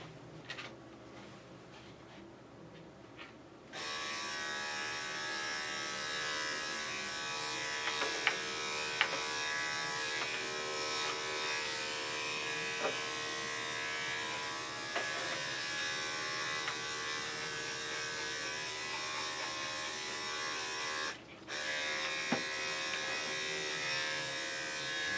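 Electric clippers fitted with a 4 guard run on a Maltese's feet, giving a steady, close mechanical buzz that starts after a quiet opening and continues with slight load changes and one brief cutout.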